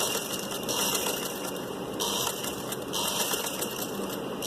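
Sewing machine stitching piping cord onto a kameez slit, running in a continuous, fast mechanical rattle with slight surges, close by and alone.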